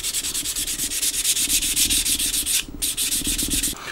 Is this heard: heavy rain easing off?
no